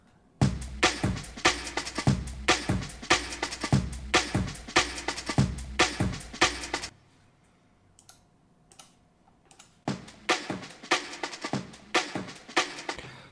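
A dry, unprocessed jungle breakbeat sample from the Jungle Jungle sample pack: punchy, rapid drum hits with busy ghost notes, dropping out for about three seconds of near silence before the loop resumes.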